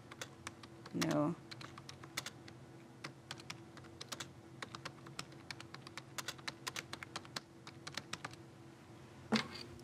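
Rapid clattering keystrokes on a computer keyboard, in irregular bursts and single taps over several seconds, fairly close; a brief voice and a couple of louder clunks break in.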